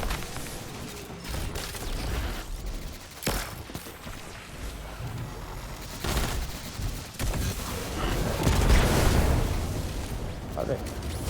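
Gunfire in the video game Destiny 2, with sharp shots and explosive bursts over dense game effects and a player talking throughout.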